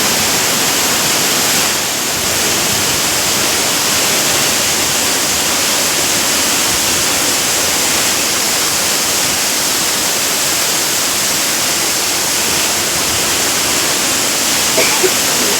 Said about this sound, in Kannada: ಫಾಲ್ಸಾಗಿ ಎಷ್ಟು ಚೆನ್ನಾಗಿ ಬರ್ತಾ ಇದೆ ನೋಡಿ.